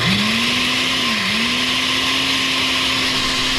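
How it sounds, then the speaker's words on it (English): A blender motor whirs steadily and loudly, its steady hum dipping briefly in pitch once before settling back to a constant drone. "Just to get the blender going."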